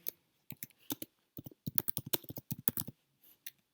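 Keys on a computer keyboard clatter in close, crisp bursts of uneven typing with short pauses between strokes, heard alone in a quiet space.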